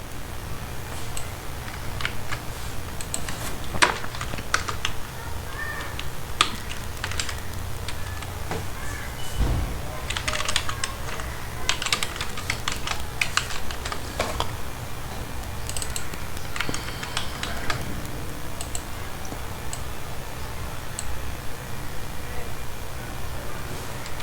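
Keys clatter steadily on a computer keyboard while code is typed for a Node.js library management app, a continuous irregular patter of close, crisp taps with a few louder strikes, no voice.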